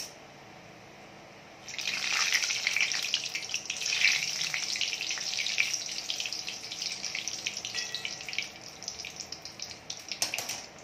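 Mirchi bhaji, chili fritters, frying in hot oil: a steady, close bright sizzle begins after a brief quiet start and crackles on continuously to the end, with no talk.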